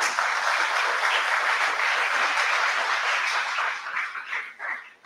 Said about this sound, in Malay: Kita berikan tepukan kepada mahasiswa-mahasiswa ini.